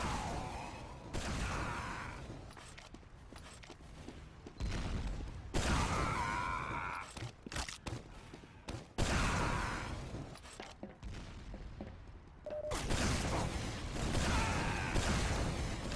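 Shotgun blasts in a team-based control-point shooter, several loud sharp bursts separated by brief gaps, with game alerts and effects mixed in and no talk.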